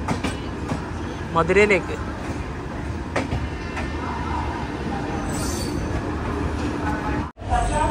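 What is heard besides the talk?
Chennai Egmore–Madurai Vaigai Express train departing station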